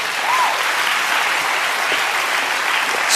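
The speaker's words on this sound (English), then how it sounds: "Give Jesus a hand clap." Sustained applause from a large church congregation during a sermon, dense and even throughout, with no break.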